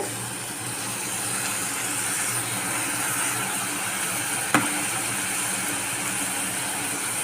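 Chillies with ginger garlic paste sizzle in hot oil for Pallipalayam chicken, a steady close frying hiss that runs throughout with one brief sharp clack near the middle.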